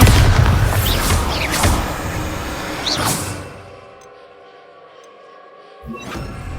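Bombarda spell explosion in the Hogwarts Legacy video game, a deep booming blast with crackling rumble that fades into near silence, followed by a short thump.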